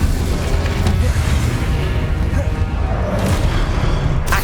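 Incendio fire spell cast in Hogwarts Legacy, a sustained dense roaring whoosh of flame holding loud and steady throughout.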